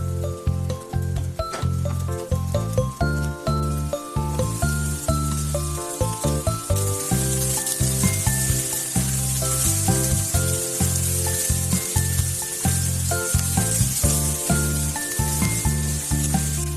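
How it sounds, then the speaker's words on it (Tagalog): Garlic and onion sauté in hot oil in a heated pan, a steady bright sizzle that swells after a few seconds and runs continuously beneath prominent background music. "At pwede na tayong maggisa ng ating bawang at sibuyas."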